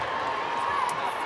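Crowd at a netball preliminary final reacting in a sustained murmur and roar, steady and moderately loud across the arena.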